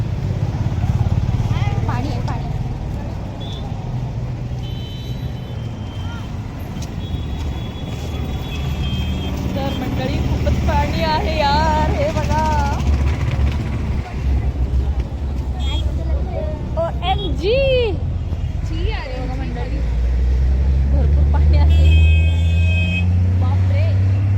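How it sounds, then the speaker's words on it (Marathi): Vehicles passing on a road in heavy rain, a continuous loud rumble and wet road roar with engine drone, a few horn toots and brief beeps mixed in, and voices talking over the traffic. "बापरे गाड्या येत आहे"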